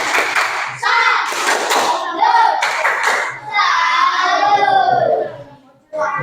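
Schoolchildren perform a tepuk salut clapping routine in an Indonesian classroom, chanting loudly in unison between bursts of group clapping and hand thumps, with a brief pause before a final beat.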